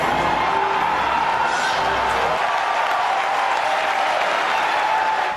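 E3 convention audience applauding and cheering for Shigeru Miyamoto: a loud, sustained wash of clapping with scattered whoops, filling the hall throughout.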